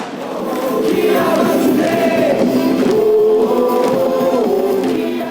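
Some 8,800 fans at a KIA Tigers home baseball game against the Nexen Heroes sing a cheer song together, a loud sustained chorus of massed voices with rhythmic rises, heard from a distance in the stadium.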